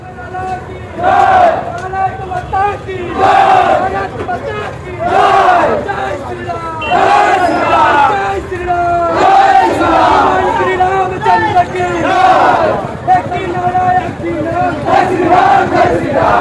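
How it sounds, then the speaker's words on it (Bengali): A street procession moves through a market as a large crowd chants loudly in unison, rhythmic call-and-response voices rising and falling in waves over a busy background. "আজকে আমাদের বাজারে মিছিল বেরিয়েছিল"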